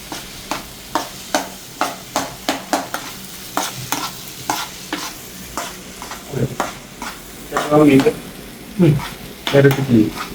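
Spatula scrapes and taps a frying pan in a steady rhythm while food sizzles underneath, building to busier clattering stirs near the end; a few faint voices sit in the background.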